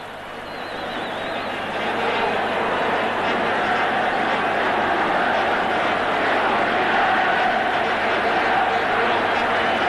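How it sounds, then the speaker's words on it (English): An excitable crowd of 80,000 roars at an Iran vs China football match, a steady broad wash of noise that swells early and holds, with a commentator talking over it. "Urged on by this very excitable crowd."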